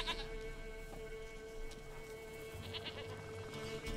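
A goat bleats in The Witcher 3: Wild Hunt, a short series of faint, wavering cries over a steady, humming game ambience, quiet and somewhat distant.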